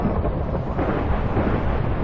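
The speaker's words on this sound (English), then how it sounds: "I haven't had a storm like this since I started in Tekkit." A Minecraft thunderstorm in a modded game pours out a dense, steady roar of rain and rolling thunder, loud and unbroken with no talking.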